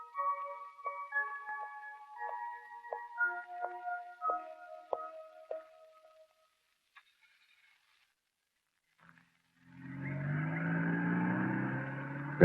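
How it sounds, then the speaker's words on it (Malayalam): A car engine, Rajendran's, rises from near silence, a low rumbling hum growing in the last few seconds as it drives past, after a stretch of faint tonal ticking and a quiet pause. "രാജേന്ദ്രന്റെ കാറിന്റെ ശബ്ദമല്ലേ ആ കേട്ടത്?"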